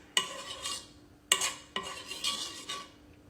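Metal utensil stirring a cinnamon and turmeric drink with clarified butter in a nonstick pan, three sharp clinks against the pan followed by softer scraping strokes, close and quiet.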